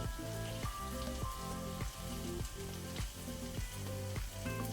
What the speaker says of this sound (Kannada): ಈಗ ನಾವು ಸಬ್ಬಸಿಗೆ ಸೊಪ್ಪನ್ನು ಒಳ್ಳೆ ರೀತಿ ಫ್ರೈ ಮಾಡಬೇಕು